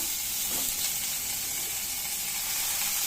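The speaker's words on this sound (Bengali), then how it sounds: "রসুন, আদা, এগুলো আমি ভেজে নিচ্ছি।" Garlic, ginger and onion frying in hot oil for a prawn curry, giving a dense, even sizzle and hiss that runs close and unbroken throughout.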